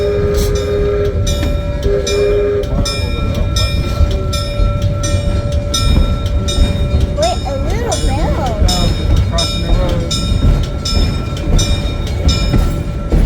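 A V&T Railroad standard-gauge train with a diesel engine rolls between Virginia City and Gold Hill, a loud, steady rumble with rhythmic rail clacks and a brief horn-like tone midway, while a narrator talks over it.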